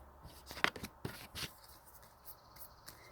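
Tarot cards are shuffled by hand in quick riffling bursts with soft slaps and rustles, close and quiet in an otherwise still room.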